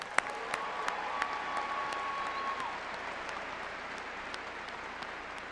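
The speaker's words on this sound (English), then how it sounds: "let's give them a round of applause" An audience at a University of Arkansas graduation ceremony claps for the faculty, a steady wash of applause from a large crowd with a few sharper nearby claps and a faint voice early on.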